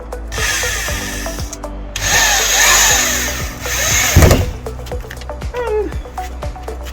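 A power drill driving a screw into a metal line pole, with whining bursts of motor and grinding contact sounds close by, in short repeated runs.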